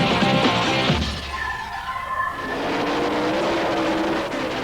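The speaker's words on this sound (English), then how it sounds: "Burnouts for the first semi-final of Pro Stock." A Pro Stock drag racing car doing a burnout before a semi-final at Santa Pod Raceway, recorded in car: loud, continuous engine roar with a rising and falling pitch, alone without talk.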